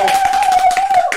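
Applause from the virtual audience of the Coxinha XP at-home online show: a dense, loud patter of rapid clapping over about a second, with a steady high tone running underneath throughout.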